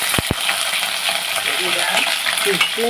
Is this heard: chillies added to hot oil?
yes